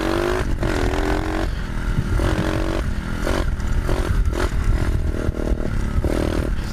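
A 2012 Suzuki RMZ 250 dirt bike engine revs loud and close, rising and falling in pitch through repeated throttle blips, with clattering mechanical noise throughout.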